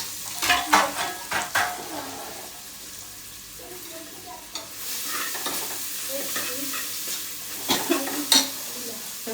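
Onions roasting in a pan on a gas stove give a soft background sizzle, punctuated by repeated clattering stirs and scrapes in bursts, louder near the start and end.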